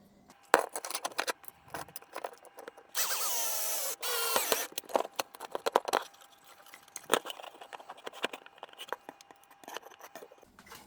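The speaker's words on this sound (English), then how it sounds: "So I had to grind down this edge a little, and also on this edge, in order to make it close properly." A power tool grinds down the edge of a steel part on a 1/14 scale CAT 973K model: one steady, loud burst of about a second sits among scattered clicks, taps and handling clatter.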